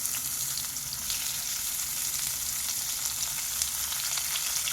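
Coriander stems and onion roasting in a pan for tomato soup, alongside Byadgi chillies, garlic and ginger, giving a close, steady sizzle with light stirring, and no one speaking.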